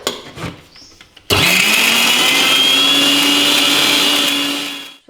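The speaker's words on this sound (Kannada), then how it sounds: "ಈಗ ಇದನ್ನು ನುಣ್ಣಗೆ ರುಬ್ಕೋಬೇಕು." Electric mixer grinder jar whirring loudly and steadily while grinding cooled masala into a fine paste, starting abruptly after a few quiet clicks and running close up at full speed until it winds down near the end.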